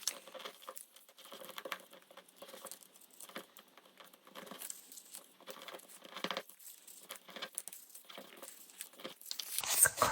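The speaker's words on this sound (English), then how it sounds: "I want to tear the edges up a little bit" Paper edges are torn by hand for a junk journal page, a series of faint, short ripping and crackling bursts in irregular rhythm. They are close but quiet, scattered across about ten seconds.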